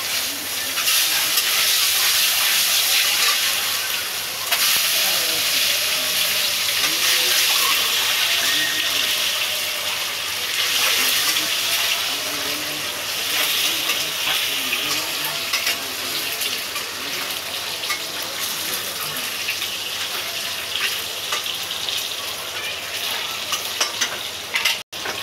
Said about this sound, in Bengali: তেলের মধ্যে আমি হলুদ দিয়ে ডিমটাকে আমি ভেজে নিলাম